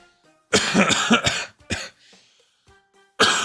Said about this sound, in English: I gotta catch up on the coughing for a minute